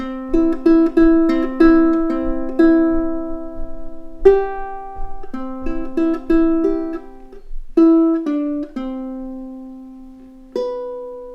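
A plucked ukulele plays a bright, bouncy riff from a song in short notes and strummed chords, solo and close, with brief pauses between phrases.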